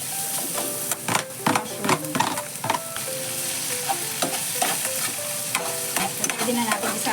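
Ginger, onion, garlic and celery sautéing in a pan for beef and broccoli, with loud continuous sizzling and repeated scraping and clattering stirs from a utensil close up.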